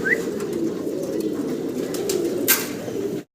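Iceberg Damascene pigeons in a breeder's loft coo in a low, steady rumbling drone close by, with a brief higher note and a soft flutter before the sound cuts off.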